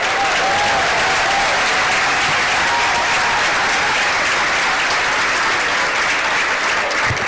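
At an annual award dinner, an audience applauds student honorees with steady, dense, loud clapping that holds at a constant level for the whole stretch, with faint crowd voices mixed underneath.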